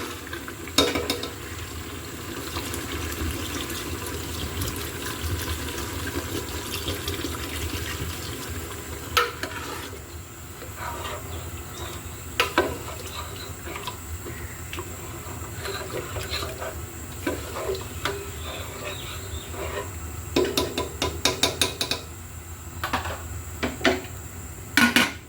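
Beef coated in spices is stirred and slowly browned on low heat in a pot for Saudi beef kabsa. A steady soft sizzle runs under repeated scraping and clinking from a spoon against the pot, with no one talking.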